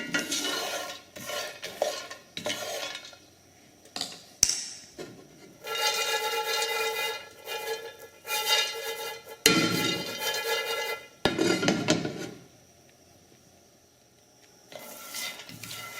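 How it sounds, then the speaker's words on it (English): Coffee beans scraped and stirred in a metal pan while roasting, with repeated bursts of rattling, scraping and faint sizzling broken by short pauses, fairly close. "the key here to roasting coffee in a pan is to keep it stirred up"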